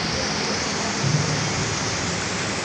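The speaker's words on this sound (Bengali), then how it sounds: "মুষলধারে বৃষ্টি হচ্ছে।" Dense, steady roar of heavy rain pouring down without pause in Dhaka, heard from a fifth-floor apartment, loud and close, with no voices.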